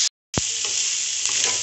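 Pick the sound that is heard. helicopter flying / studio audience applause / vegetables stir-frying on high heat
vegetables stir-frying on high heat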